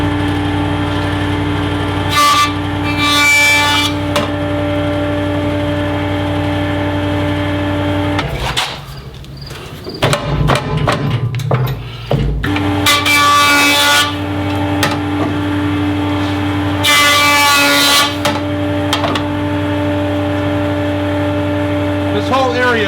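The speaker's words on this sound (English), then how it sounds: "This is just a spinning blade. It's called a joiner. And it's going to take a small shaving off the bottom." A jointer's spinning blade shaves the bottom of a piece of firewood being milled into lumber: a steady, loud motor whine with strong harmonics, broken midway by a few seconds of rougher cutting noise before the hum resumes.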